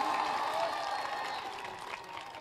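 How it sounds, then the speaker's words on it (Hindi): Mushaira audience applause carries through a hall as steady, dense clapping that holds at an even level for a couple of seconds. No voice rises above the clapping. "एक बार जोरदार तालियां बजाकर मुझे हुक्म दें।"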